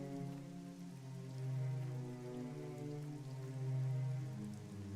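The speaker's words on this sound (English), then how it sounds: "Oh, this rain looks nice, too." Steady rain patters across a town in the video game Neverwinter Nights (Witch's Wake module), an even, continuous wash of falling drops with gentle swells in loudness and no voices.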